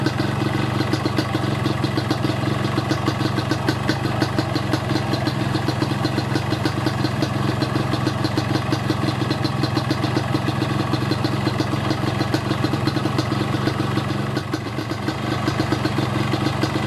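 A warmed-up Yamaha RX King two-stroke motorcycle idles steadily up close during carburetor air adjustment, a continuous loud burbling engine drone with no one talking.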